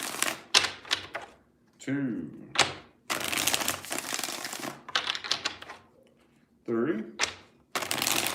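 Tarot cards are shuffled for a reading in a run of crisp riffling bursts, each a few seconds long, close and fairly loud. A voice speaks in the gaps between them.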